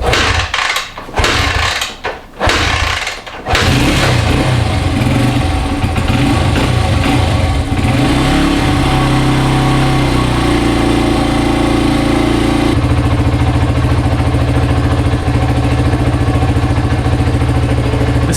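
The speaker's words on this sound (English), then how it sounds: "this thing liked full choke to start. And only took a couple kicks." A stone-cold engine kick-started on full choke sputters with a few uneven bursts, then catches and runs loud and close, revving and settling into a steady, rough idle with no voices.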